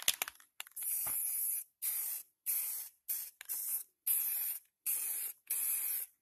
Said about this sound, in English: Alright, I'm going to spray paint it white.